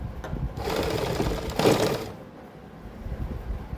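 A sewing machine stitches a curved sleeve shoulder seam in a close, continuous mechanical whir lasting about two seconds. It then fades into quieter background hum.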